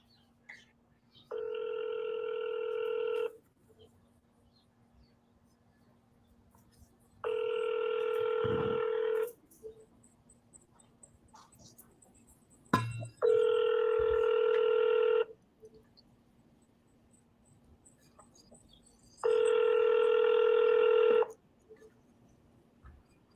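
An outgoing phone call to a seller rings back four times in evenly spaced tones, each about two seconds long with pauses between, clear and steady over a faint background hum.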